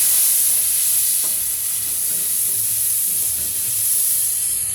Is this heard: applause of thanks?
no